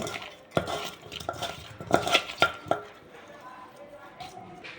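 Fish pieces are mixed by hand with cumin, coriander and fish spice in a bowl, giving a run of soft wet slaps and clinks against the dish that later fade to quieter rustling.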